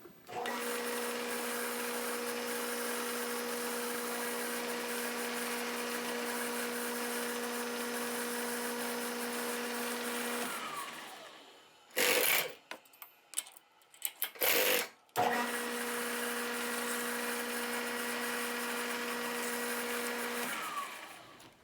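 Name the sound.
drilling quarter-inch holes in an aluminum link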